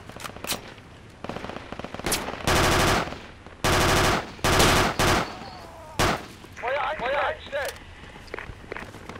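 Bursts of automatic gunfire and single shots in Battlefield 2 Project Reality, loud and close in several long volleys with short gaps, with footsteps and voices talking between them.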